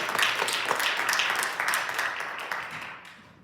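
Audience applause at a community meeting about opposing a methane gas plant in Kenosha, a room full of clapping that holds steady for a few seconds, then thins out and fades.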